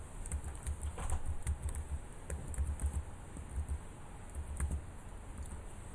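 Rapid typing on a computer keyboard as administrator credentials are entered, a steady patter of close key clicks in uneven bursts with brief pauses, no voices.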